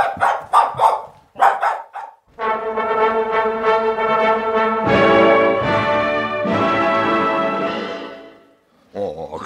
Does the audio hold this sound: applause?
no